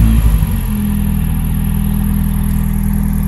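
Mazda NA Roadster engine idling with the shift area exposed, a steady low hum with a faint whirring transmission mechanical noise on top, close and continuous after a brief starting clatter.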